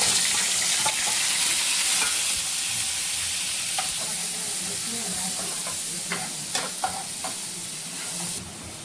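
Ginger-chili paste hits hot oil already crackling with cumin seeds for chole, giving a steady, close, loud sizzle with occasional sharp spatula clicks and no talking.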